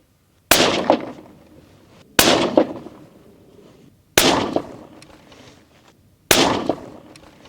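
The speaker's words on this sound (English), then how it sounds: "But we're shooting a whole bunch of groups here to be absolutely certain that our 0 is correct." A Fierce Mountain Reaper rifle chambered in 6.5 PRC fired outdoors at distant targets: four loud, sharp shots spaced about two seconds apart, each followed by a long fading echo, with no talk.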